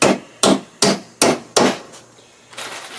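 A hammer drives nails into a wooden honey super box, with five sharp, evenly spaced strikes ringing close by, then quieter taps trailing off.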